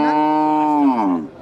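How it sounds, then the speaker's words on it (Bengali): A crossbred cow gives one loud, close, drawn-out moo at a busy Bangladeshi Qurbani cattle market in 2024. "এটা কি জাতের গরু?"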